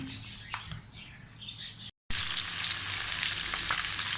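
Rohu fish frying in hot oil at home: after a short, quieter stretch with faint bird chirps, a brief cut leads into a loud, dense, continuous sizzle heard up close.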